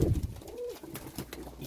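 Pigeons coo inside a breeding loft, one clear rolling coo standing out over softer bird murmurs and faint rustling, heard close and alone without talk.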